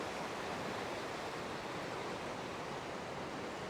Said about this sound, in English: And the force of that water is just washing all the rubbish through.